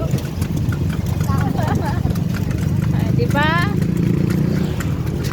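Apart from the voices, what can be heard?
horse hooves clip-clopping pulling carriage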